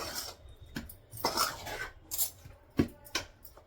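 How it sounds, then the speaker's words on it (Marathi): A spoon scrapes and stirs flour dough for fenugreek thepla in a hot pan, producing irregular gritty rasps and metallic scuffs in short strokes, close and fairly quiet, with no voices. "चमच्याने कसंही चांगलं मिक्स करून घ्या"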